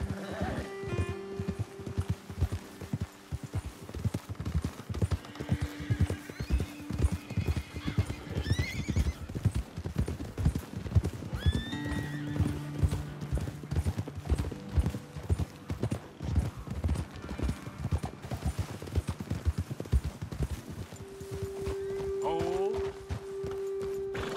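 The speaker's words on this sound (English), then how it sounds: "Okay, let's dismount here. Best leave the horses back a bit." Horse hooves clip-clop steadily throughout in the video game Red Dead Redemption 2, with occasional horse whinnies and snorts, mid-distance, under ambient outdoor sound.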